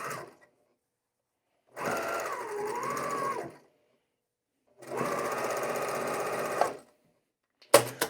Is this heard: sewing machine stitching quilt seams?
yes